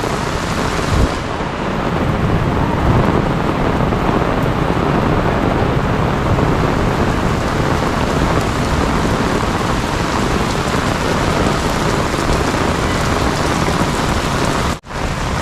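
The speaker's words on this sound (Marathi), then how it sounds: "भरपूर पाऊस झाला पंधरा मिनटात भरपूर एकदम तुफान पाऊस" Heavy stormy rain pours down in Mumbai and Thane, a dense, loud, unbroken roar of rain on surfaces that holds steady throughout, with a brief dropout near the end and no talking.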